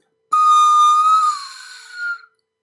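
One high pan flute note sounds clear and strong, then drops in pitch and turns breathy and airy as the lips move away from the pipe, ending in a short soft swell before silence.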